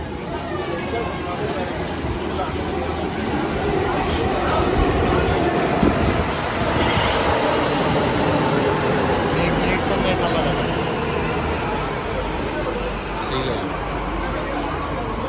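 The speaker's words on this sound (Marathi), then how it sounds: "भाई आपली मेट्रो जी आली आहे" A metro train rumbles into a station platform, a loud continuous roar with rail clatter and faint squeals, while people talk nearby.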